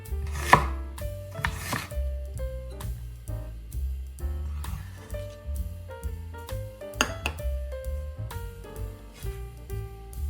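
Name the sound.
knife chopping onion into half moons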